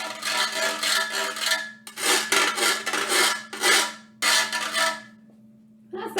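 A kitchen grater played as a musical instrument, scraped in repeated rasping strokes of a few seconds each with short pauses between them, loud and close, with no voices.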